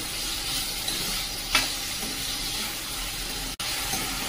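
Onion and chopped tomato sautéing in a pan over high flame, a continuous close sizzle and hiss with a faint stir or scrape partway through.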